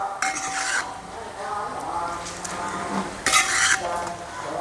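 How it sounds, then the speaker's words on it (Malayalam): A spoon stirs ghee-fried onions into coconut milk rice porridge in a pot, with continuous scraping and sloshing and a few louder metallic scrapes against the pan, close up and without talk. "അത് ഇതിലിട്ടിട്ട് നല്ലവണ്ണം ഇളക്കണം"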